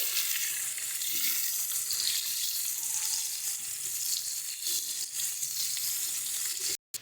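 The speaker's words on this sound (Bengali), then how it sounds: "ভালো করে আলুগুলোকে আমরা সুন্দর করে একটু ভেজে নিচ্ছি।" Potato pieces fry in a pan for Kashmiri aloo dum, a continuous close sizzle and crackle that holds steady before cutting out briefly near the end.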